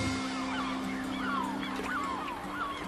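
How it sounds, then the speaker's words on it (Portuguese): Gulls calling at sea off Norway, where they gather around a fishing boat to feed: repeated shrill, sliding cries at mid distance over a steady low engine drone. "Um banquete para as gaivotas que, de repente, aparecem de todos os lados."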